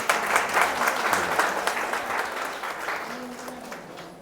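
Loud sustained applause from an audience at a Sri Thyagaraja Swamy Aradhana music event in Hosur, dense clapping that slowly fades over a few seconds, with a faint murmur beneath.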